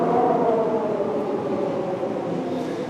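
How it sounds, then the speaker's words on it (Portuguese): A train passes close by during a city planning meeting, a steady rumbling roar with faint tonal whine that holds at moderate loudness and slowly fades slightly. "parece que está passando um trem aqui do lado"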